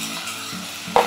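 Raw beef sizzles with sprinkled sugar in a preheated stainless steel sukiyaki pot with no oil, a steady soft frying hiss under faint stirring clinks and a brief louder clank near the end.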